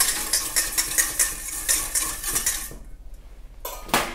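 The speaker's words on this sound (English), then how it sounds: "I'm just going to give that one a stir until homogenous." A utensil stirs a glycerin serum mixture in a container, making rapid rhythmic scraping and clinking strokes close by, a brief pause, then one more scrape, with no voices.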